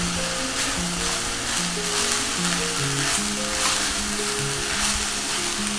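Tomatoes tipped into a hot frying pan as a pancake filling is cooked, giving a steady close-up sizzle that runs the whole time under a sustained background music bed.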